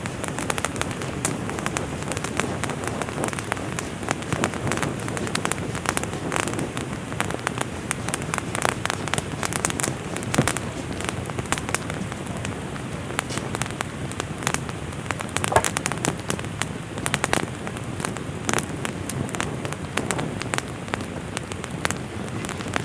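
Steady rain pours onto a bushcraft shelter during a wild forest rainstorm, a dense continuous hiss and patter of drops that holds at an even level throughout, close and loud with no talking.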